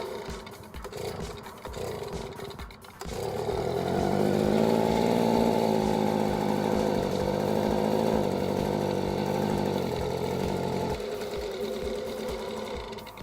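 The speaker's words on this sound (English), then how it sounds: "Now they're telling me the blower is isn't kicking any power." A leaf blower running weakly and losing power, its steady motor drone swelling after a few seconds, holding for about eight seconds, then dropping back to a lower idle, near and fairly loud with no talk over it.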